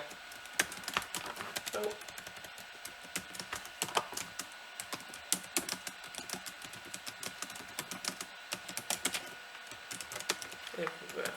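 Ad text is typed on a computer keyboard in rapid, irregular bursts of close, crisp key clicks, with a brief spoken exclamation.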